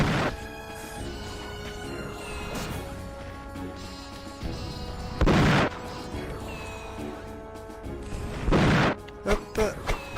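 Loud explosive blasts go off at intervals over a busy game soundtrack in Grand Fantasia, with a cluster of sharp booms near the end.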